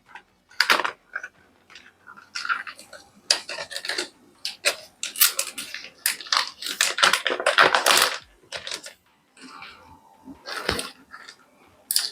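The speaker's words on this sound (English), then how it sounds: "First we will uncover this plastic wrap." Plastic wrap being peeled and pulled off a new Alienware m16 R2 laptop, with close, irregular crinkling and crackling bursts separated by short pauses.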